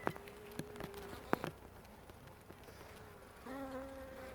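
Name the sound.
honey bees buzzing at hive frame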